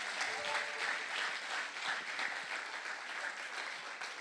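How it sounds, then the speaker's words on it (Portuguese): Church congregation applauding during a morning Bible-study service, a steady, dense wash of many hands clapping that holds at an even level throughout, fairly close and with no voices over it. "Você pode aplaudir ao Senhor nesse momento?"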